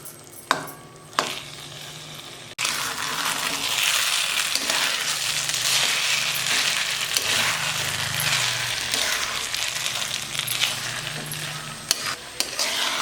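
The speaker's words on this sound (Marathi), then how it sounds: "ही मिश्रण ना आपण दहा ते पंधरा मिनिटं याला चांगलं परतून घेणार आहे" Aliv (garden cress seed) ladoo mixture roasts in a pan while a spoon stirs and scrapes it, a dense close sizzle with steady scraping throughout after a few sharp knocks at the start.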